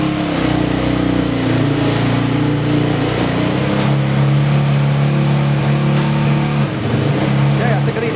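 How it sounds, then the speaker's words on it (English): A Yamaha 250 two-stroke motocross bike runs on a dyno indoors, its loud engine holding a steady buzzing note, then climbing and falling through revs while someone talks faintly beneath it. "next on the dyno is this, the Yamaha 250 motocrosser"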